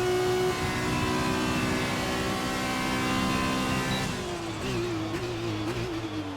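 Race car in a racing video game accelerating, a loud, close engine whine holding steady and then dropping and rising again as it pulls away, no talk.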